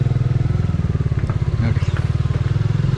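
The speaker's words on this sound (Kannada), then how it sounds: "ಇಂಜನ್ ಬೈಕ್ ಸೌಂಡೇ ಒಂಥರ ಡಿಫ್ರೆಂಟು, ನಿಮ್ಗೆ ಕೇಳಿಸ್ತಾ ಇರ್ಬೋದು ಅನಿಸುತ್ತೆ" A motorcycle engine idles close by with a steady, rapid low throb that runs unbroken throughout, a brief rev swelling near the middle; no one speaks over it.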